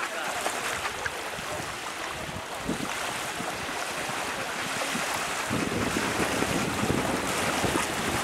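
An inflatable boat out on open water, with steady wind buffeting the microphone and waves washing around the hull throughout, loud and continuous with no clear talk.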